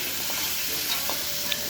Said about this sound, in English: Starts frying fast.